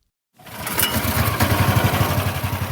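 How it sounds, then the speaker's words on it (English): Heavy machinery and power tools rumble at a flood rebuilding site in Hamilton, Washington, in the Cascade Mountains woods; a loud, steady engine drone with a throbbing low pulse starts abruptly and runs continuously. "Power tools and big trucks shake the few buildings in Hamilton, Washington"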